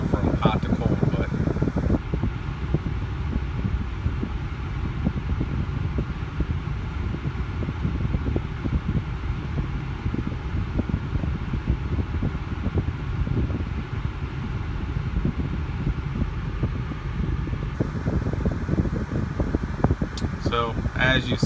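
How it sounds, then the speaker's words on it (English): Air conditioning blower in a Toyota 4Runner runs at a steady, full whoosh of rushing air for the whole stretch, close and even, with muffled voices faintly underneath. "so as you see, AC is getting very, very cold"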